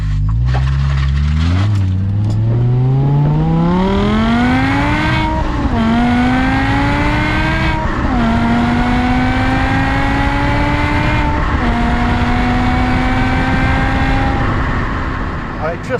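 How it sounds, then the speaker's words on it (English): A powerful BMW M5 engine, about 500 horsepower in M mode, revs hard and climbs through several gears, each shift marked by a brief drop before the pitch rises again, loud and close. "It just revs up so quickly."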